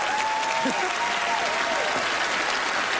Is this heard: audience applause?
yes